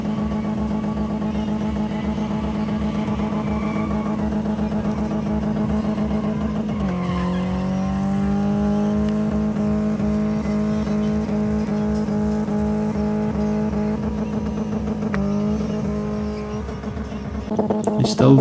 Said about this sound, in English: More burnouts. God help the tyres.